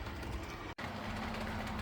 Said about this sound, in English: there is a train just running around at the moment